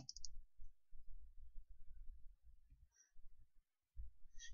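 Faint mouse clicks while launching Gideros Studio on a computer, a short click burst at the start and a few more later, over a low background hum.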